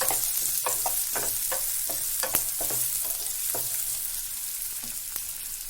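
Chopped onions fry in a pan, their sizzle steady throughout as a utensil scrapes and stirs them in repeated short strokes, close and fairly loud.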